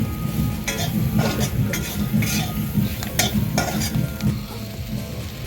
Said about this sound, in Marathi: चवीनुसार मीठ त्यानंतर हे मसाले सर्व मिरचीला एकत्र व्यवस्थित भाजून घ्यायचे